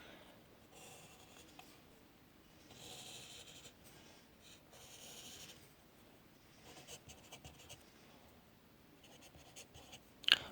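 Pen scratching across paper while a figure is drawn for a trigonometry problem, a continuous soft rubbing scrawl with short strokes and pauses, close and quiet, with no talking.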